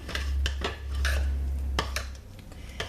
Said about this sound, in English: And I'm just going to stir that in.